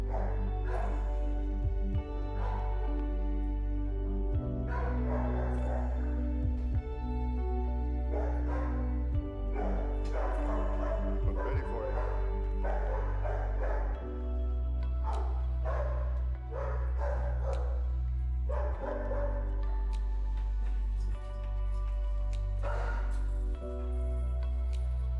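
Dogs at an animal shelter bark and yip in scattered bursts, some closer and some farther off, over a steady low hum that runs through the whole stretch.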